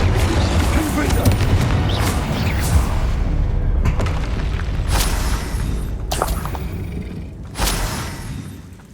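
Confringo fire spell blasts in the video game Hogwarts Legacy, dense rumbling booms and crackling bursts overlapping a continuous roar, with a player shouting over the action.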